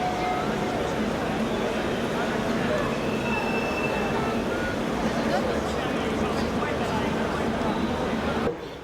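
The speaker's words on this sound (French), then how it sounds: "Voilà le TGV PSE." Model TGV PSE train running on a layout at a model railway exhibition, a continuous close rumble of wheels on track with faint squeal, steady throughout and under a murmur of voices.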